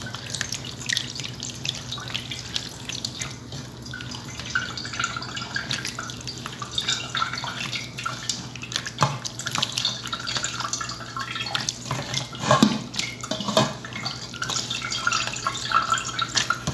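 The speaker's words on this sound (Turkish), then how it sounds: "salçamızı eriyen domatesimizi şu şekilde süzüyoruz." Melted tomatoes are strained for homemade tomato paste, giving a close, continuous wet dripping and trickling with small liquid splashes and no voices.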